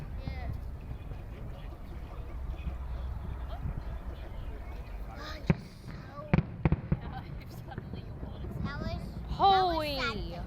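Australia Day fireworks bursting over Perth, heard as a few distant thuds and a quick cluster of sharp pops midway, beneath steady crowd murmur and nearby voices that rise near the end.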